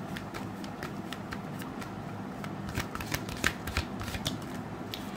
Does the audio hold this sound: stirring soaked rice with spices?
no